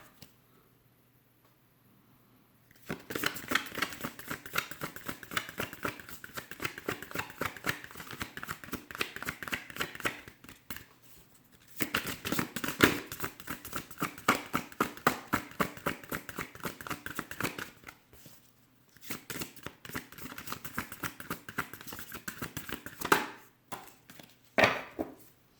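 Oracle cards shuffled by hand for a card reading, a soft, quick riffling patter in three bursts separated by short pauses, close and fairly quiet with no talking.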